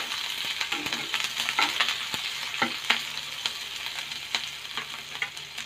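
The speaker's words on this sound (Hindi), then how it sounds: "हल्का ब्राउन होने तक भुनेंगे इसको," Onions fry in a hot pan while they are stirred and roasted until light brown. A steady loud sizzle is cut by scraping stir strokes, with no voices.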